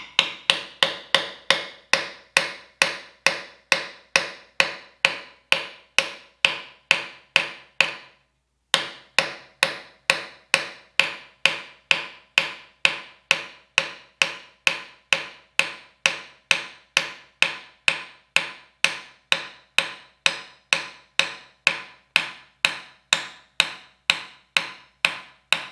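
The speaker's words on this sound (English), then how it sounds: "you just very lightly tap the tang of the knife" A hammer lightly taps the tang of a handmade knife held in a vise to seat its guard, giving steady, evenly spaced metallic ticks at about two per second, with one brief pause, close and clear with no talk.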